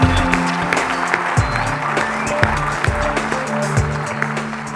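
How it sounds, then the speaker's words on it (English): An audience at a national business meeting applauds its sponsors, loud, sustained clapping mixed with a low hum and rumble from the hall. "So let's give them all a big round of applause."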